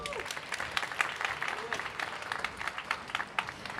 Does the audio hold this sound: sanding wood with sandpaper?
no